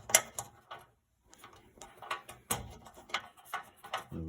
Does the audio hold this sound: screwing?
yes